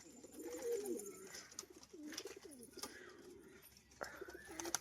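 Pigeons cooing on a rooftop, a pair of birds giving repeated soft, throaty coos that rise and fall, near and fairly quiet against faint background noise.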